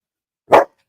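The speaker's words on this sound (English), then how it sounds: "She barked right in my ear." A small dog gives one short, loud bark close to the listener, with silence before and after it.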